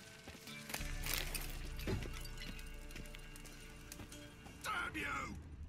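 Horses from The Witcher 3 game, their hoofbeats clip-clopping at a steady gallop, with a brief whinny near the end, under speech and game sounds.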